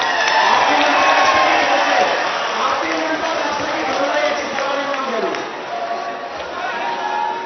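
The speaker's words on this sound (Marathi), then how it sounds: "या मीडिया प्रतिनिधींसाठी एकदा जोरदार टाळ्या होत्या" A crowd cheers and shouts, with some clapping for media representatives. The noisy, mixed roar of voices stays loud throughout and eases slightly toward the end.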